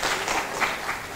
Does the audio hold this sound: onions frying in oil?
no